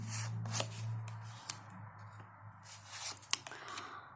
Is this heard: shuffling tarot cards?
yes